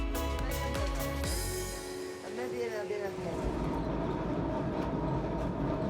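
A passenger train runs on rails in Sicily, heard up close with a steady rumble, rhythmic wheel clatter and some metallic squeal, loud and continuous throughout.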